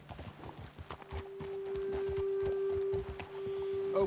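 Horses' hooves clip-clop at a steady walking rhythm in Red Dead Redemption 2, close and clear, with a sustained tonal hum running underneath and no talking.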